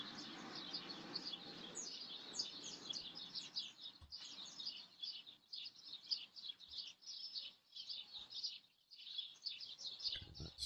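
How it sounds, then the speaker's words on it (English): Birds chirp and tweet continuously in dense, overlapping calls, fairly faint and steady throughout, with a low background rumble and no speech. "How about birds chirping?"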